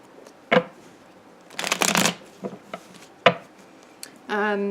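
Tarot cards being shuffled by hand in short riffling bursts with a few soft taps between, close and fairly quiet, ending with a brief tonal sound.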